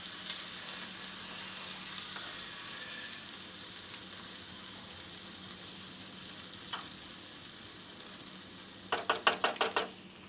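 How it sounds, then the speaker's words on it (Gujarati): Ginger-chili-garlic paste sautés in hot oil with chili and bay leaf for a dal tempering, giving a steady, close sizzle that ends in a quick run of sharp spoon knocks against the pan. "એને પ્રોપર રીતે સંતળાવવા દઈશું."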